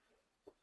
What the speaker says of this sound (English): I have a bad cough, but so you will be interrupted with some of the coughing in between